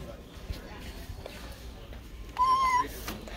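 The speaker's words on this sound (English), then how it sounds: "A cat." A toy cat gives one short, electronic-sounding meow in a store, clear and close, with people talking and moving around it.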